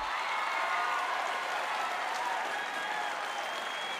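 Crowd at a Chuck E. Cheese birthday celebration applauds, a dense, steady wash of clapping that fills the whole four seconds at a moderate, even level.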